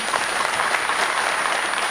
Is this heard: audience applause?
yes